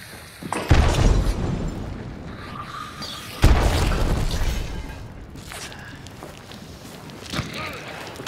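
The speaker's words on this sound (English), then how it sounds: "Bomb." Two heavy booming explosions from a bomb in a video game, each with a sharp onset and a rumbling decay, spaced a few seconds apart, with faint voices in between.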